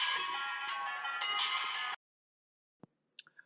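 A phone ringtone plays loudly and steadily for about two seconds, then cuts off into near silence broken by a few faint clicks.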